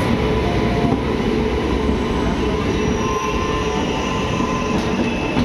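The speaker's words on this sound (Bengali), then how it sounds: "হাওড়া মুম্বাই দুরন্ত এক্সপ্রেস।" The Howrah–Mumbai Duronto Express rolls through Howrah station with a loud, steady roar of wheels on rails, a continuous close rumble with faint squeals and no talk.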